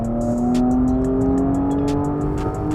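Porsche Cayenne S E-Hybrid accelerates hard in sport plus mode, a loud steady engine drone with a rising tonal whine, heard from inside the car, with faint ticking clicks above it.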